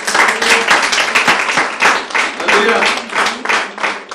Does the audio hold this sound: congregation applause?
yes